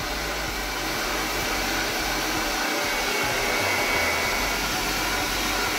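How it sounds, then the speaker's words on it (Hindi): A hair dryer blows steadily and loudly up close while a brush works through a small child's hair, a continuous whooshing roar with no pauses. "मैं एक दफ़े ब्रश में लेके उनको ड्राई करके छोड़ रही हूँ ताकि बच्चा उलझे ना"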